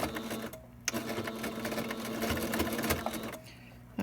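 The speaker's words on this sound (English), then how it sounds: "I'm sewing over the elastic again" A sewing machine stitches across the elastic of a fabric face mask in a fast, steady mechanical whir, close and fairly loud, with a short pause partway through before it resumes.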